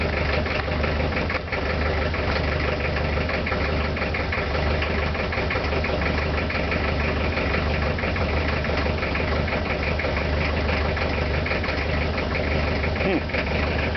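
A 1983 Ford Ranger diesel engine cold-started and left idling, with a loud, steady, knocking clatter that runs without a break throughout.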